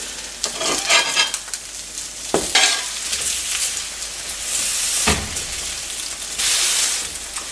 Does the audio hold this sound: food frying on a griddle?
yes